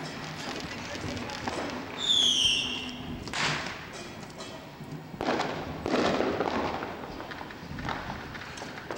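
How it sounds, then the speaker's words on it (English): Noise fireworks at a New Year's party going off as several scattered bangs and pops, with a whistling streak and noisy crowd sounds between them. "I think those are just noise fireworks."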